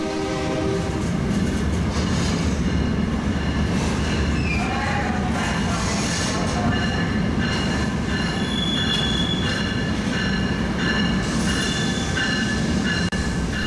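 A long freight train of over 80 rock hopper cars rolls past close by, wheels rumbling and clacking steadily, with squealing metal and a distant horn sounding over the continuous roar.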